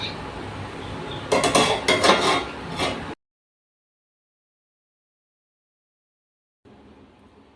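A steaming cooking pot's lid is lifted after twenty minutes on low flame, giving a brief clatter and clink of metal against metal, then silence, then faint kitchen noise.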